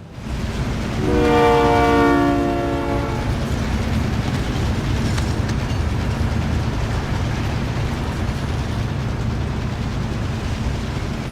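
A train rolls past in the Warzone video game, its loud multi-tone horn blaring for about two seconds before a long, steady rumble of wagons continues to the end.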